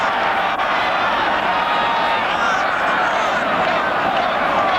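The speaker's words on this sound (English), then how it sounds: "Listen to the crowd." A football stadium crowd cheers loudly in a continuous roar as the Seahawks host the Raiders in 1984, with a broadcast voice audible underneath the steady wall of noise.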